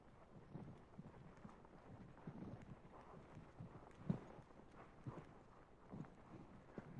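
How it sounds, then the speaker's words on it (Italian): Horse hooves beating out an extended trot during a riding lesson, a steady two-beat clip-clop under constant wind rush, with soft thuds and a few sharper strikes, moderately distant. "E passare al trotto allungato."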